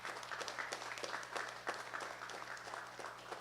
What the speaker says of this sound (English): Can we give our distinguished elected official a round of applause?